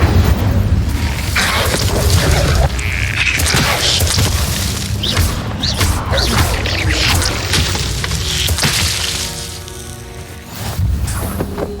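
Repeated Incendio fire-spell blasts in Hogwarts Legacy, forceful booms and crashing bursts over continuous game noise, easing off briefly near the end before a final burst.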